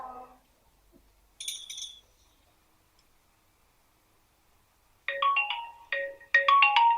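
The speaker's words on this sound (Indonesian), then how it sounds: "Oh, Mbak Putri telepon" A mobile phone rings with an incoming call, bright electronic melodic tones in short repeated bursts, clear and close in an otherwise quiet room.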